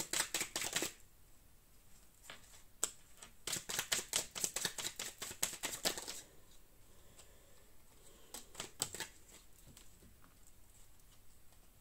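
Oracle cards are shuffled and drawn, bursts of quick papery riffling and slapping close by, with pauses between shuffles and softer handling toward the end.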